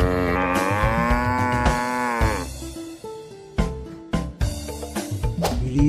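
A toy cow gives a long electronic moo, close and clear, followed by a few shorter sharp toy sounds and clicks.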